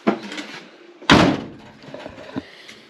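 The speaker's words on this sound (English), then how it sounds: "The door doesn't quite close right because of all the damage up here" A 1959 Willys Jeep pickup's damaged door is swung shut, giving a loud metallic slam followed by a few softer knocks and rattles as it fails to latch properly, heard close up.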